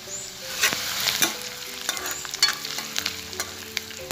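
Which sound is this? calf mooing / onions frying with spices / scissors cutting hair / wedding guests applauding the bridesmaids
onions frying with spices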